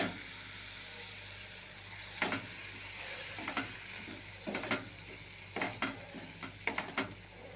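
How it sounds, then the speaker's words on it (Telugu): Tomatoes frying in oil for a boiled egg curry, stirred on a simmering pan: a steady low sizzle broken by scraping spoon strokes that come in irregular bursts, close and moderately loud, with no talk. "ఇప్పుడు ఈ నూనెలో టమాటా మొత్తం మగ్గేంత వరకు కలుపుతూ ఉండాలండి"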